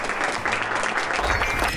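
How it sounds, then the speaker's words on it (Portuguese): A studio audience applauds on a reality competition show, a steady, dense patter of clapping hands that carries evenly through the moment without voices rising above it. "Eu peço uma salva de palmas a todos que estão aqui hoje"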